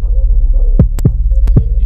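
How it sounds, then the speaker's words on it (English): A club-style beat built in FL Studio and run through a multi-band compressor: a loud, deep throbbing bass drone punctuated by a few sharp, punchy hits, with no voices. "I got this multi-band compressor effect on here"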